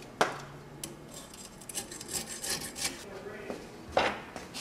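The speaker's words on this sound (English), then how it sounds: "trim any excess grip tape you have with a razor blade" A razor blade trims excess scooter grip tape, giving several short, close scraping and rasping strokes with sharp cutting onsets, quiet and uneven, with no talk over them.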